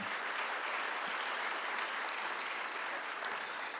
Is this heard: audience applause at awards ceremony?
yes